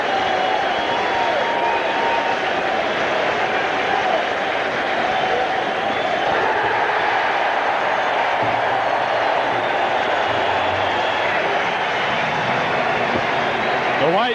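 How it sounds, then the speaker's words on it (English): Steady roar of a large baseball crowd at a Mets home game against the Houston Astros in 1984, swelling as the team nears the final strike, continuous and loud with a broadcaster talking over it. "Now the crowd really gets going as the Mets are 1 strike away from victory."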